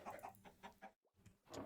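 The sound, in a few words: chickens clucking in Minecraft, a video game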